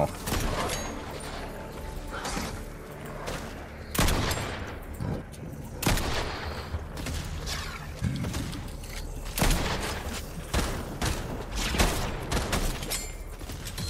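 Rapid bursts of gunfire from a Fortnite match ring out repeatedly, loud and close, with sharp cracks scattered across the stretch and voices talking over the shooting.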